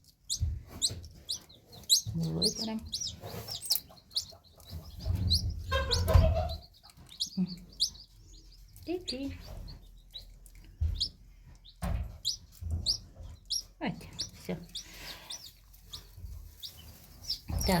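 Newly hatched chicks peep in rapid high chirps throughout, with a hen clucking softly nearby in a farmyard hatching nest, the cheeping close and continuous with a few brief louder bursts.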